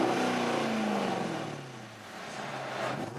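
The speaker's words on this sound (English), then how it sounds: "Let's hear that exhaust." A 2013 Dodge Charger Hemi Hurst HellRaiser with an upgraded exhaust revs close by, its engine note swelling and then falling away before picking up again, heard alone without any voices.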